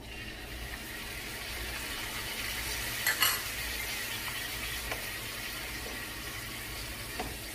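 A spoon or spatula stirs sesame pork through a spoonful of sauce in a hot pan, giving a steady soft sizzle with a few light scraping clicks, close and without talk.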